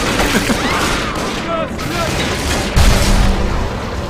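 A grenade going off in the video game Bioshock 2: a heavy low boom late in the clip amid rattling gunfire and mechanical game noise.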